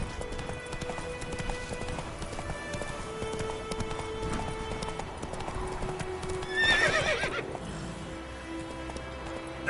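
Roach, Geralt's horse in The Witcher 3, gallops with a steady close clip-clop of hooves and lets out a loud whinny partway through, the hoofbeats running continuously throughout.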